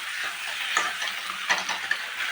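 Spice paste fries and sputters in a pan while being stirred, a close steady sizzle broken by a few soft scrapes and clicks of the utensil, with no voices.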